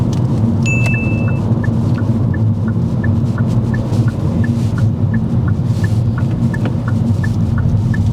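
A car on the road during a driving lesson test drive, its engine rumble steady and fairly loud throughout, with faint repeated ticking like an indicator running alongside.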